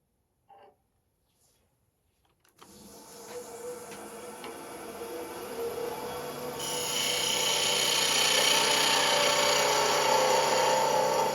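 A razor-sharp skew chisel cuts wood on a lathe, a continuous scraping, hissing cut that starts abruptly after near silence and grows louder and brighter partway through, sustained to the end.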